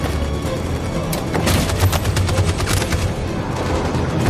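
Dense gunfire in the video game Detroit: Become Human, sustained overlapping automatic bursts and booming shots forming a loud, continuous fusillade with no clear pauses.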